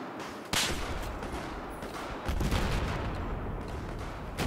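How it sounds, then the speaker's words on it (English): M16A4 assault rifle fire in Battlefield 4 on the Golmud Railway Rush map, with a sharp, loud opening shot followed by rapid bursts and sustained gunfire mixed with distant battle noise throughout. "So, I'm just going to take some shots at this guy, but unfortunately it's a bit too far range for this gun."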